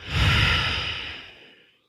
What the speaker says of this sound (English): Inhale, trace up. Exhale, trace down.